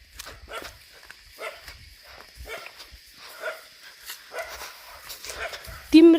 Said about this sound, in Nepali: कुकुरहरू भोग्नु थाले अब